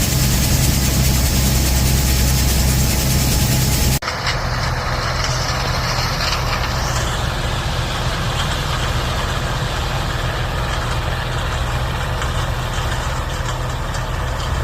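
A grain truck with a 427 engine running on LP idles steadily and loudly close by, a continuous low rumble with no break, alone without voices.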